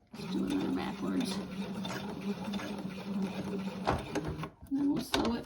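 A sewing machine stitches headphone parts in quick, close bursts of rapid whirring with pauses between runs, while a person talks over it.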